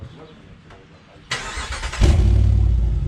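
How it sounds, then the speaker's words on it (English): A 2019 RAM 1500 pickup with a Flowmaster exhaust cranks over and fires, the starter whirring briefly before the engine catches into a loud, deep, steady rumble close by. "let's fire this thing up. All right, here we are. This is with the Flowmaster exhaust."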